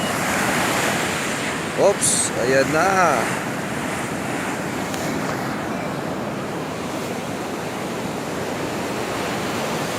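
Rough surf at Sabang Beach in Baler rolls in as a continuous roar of breaking waves, steady throughout, with wind noise and a brief spoken exclamation early on.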